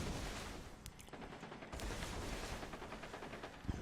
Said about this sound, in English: Apparently we got somebody over on my right with a minigun going to town